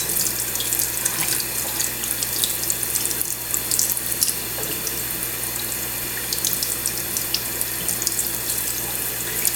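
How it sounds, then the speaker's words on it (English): Tap water runs into a sink while a cockatiel is bathed, a steady close splashing and hiss of flowing water with a low hum underneath, continuous from start to finish. "Sometimes that water feels good just running on the top of their feet."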